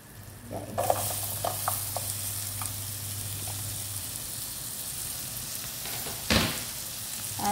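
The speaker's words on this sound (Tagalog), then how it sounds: "Mainit na yung ating butter. So, ilagay na natin ang ating sibuyas." Onions sautéing in hot butter in a pan, a steady soft sizzle with light stirring and occasional clinks of a utensil, close and moderately quiet, with a louder scrape near the end.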